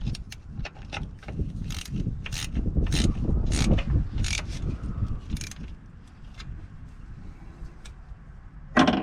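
Bolts being tightened on the clutch fan hub of a 2007 Freightliner truck with a Series 60 Detroit engine: rapid ratchet clicks in bursts, close and fairly loud, with a sharper metallic clack at the end.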